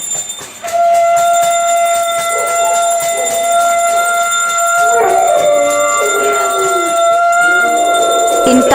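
A dog howls on a rooftop in rising and falling wails, over loud, sustained ringing tones that run throughout.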